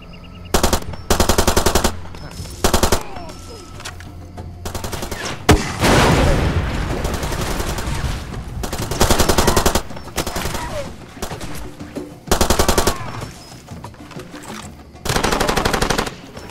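Assault rifle fire in Far Cry 2, with loud bursts of automatic shots coming in repeated clusters separated by short pauses, plus a heavier boom midway, across about sixteen seconds.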